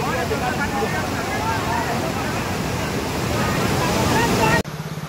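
Flood water rushes through the opened gates of a barrage on the Gandak, a loud, continuous broadband roar with no break until it cuts off abruptly near the end.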